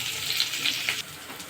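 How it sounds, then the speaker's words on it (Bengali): Green chillies, chopped onion and garlic frying in hot oil with cumin in a kadai, giving a steady, close, continuous sizzle and crackle with no talk. "এরপরে কাঁচামরিচ, পেঁয়াজ আর রসুন কুচি সবগুলো দিয়ে দিচ্ছি।"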